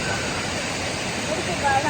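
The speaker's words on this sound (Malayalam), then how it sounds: "ഇതാണ് വെള്ളച്ചാട്ടം ഇതിങ്ങനെ പോവാണ്" A waterfall on a rural route toward Munnar gives a steady, broad rushing roar that fills the whole clip at even loudness, with a faint high tone briefly appearing near the end.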